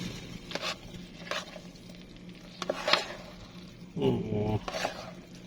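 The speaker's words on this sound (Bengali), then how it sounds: "এখন আমি ভালো করে নাড়িয়ে নেব তাহলে সবগুলো মিক্স হয়ে যাই" Noodles stirred in a hot pan, with scraping strokes over a steady sizzle of frying; a few distinct stirring bursts, close and moderately loud.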